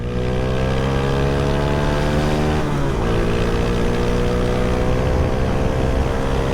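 A 2020 Honda Wave 125i LED motorcycle with a tuned ECU revs steadily up through the gears, its engine note climbing in pitch, dipping briefly at a shift, then rising again, loud and continuous with no talking.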